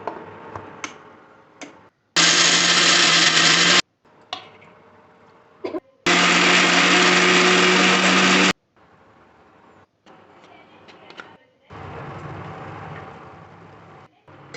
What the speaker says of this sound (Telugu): ఇప్పుడు మిక్సీ జార్లోకి శనగిత్తనాలు, పచ్చిమిరపకాయలు వేసి మిక్సీ పట్టండి.